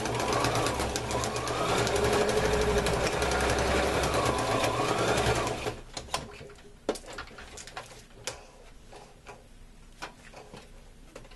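A sewing machine stitching a fold on a garment bag gives a steady mechanical hum for several seconds, then stops, leaving scattered light ticks and clicks.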